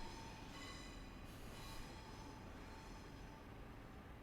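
Train pulls out of a station in Train Sim Classic on the Southampton to Bournemouth route, giving a steady, dense rumble of rolling wheels and motors that holds for several seconds, with no talking.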